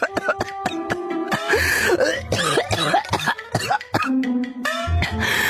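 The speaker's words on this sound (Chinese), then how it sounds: "老王妃又是一连串的咳嗽" An elderly woman, an old dowager, coughing in a rapid, repeated string of harsh coughs and throat clearing, close and loud.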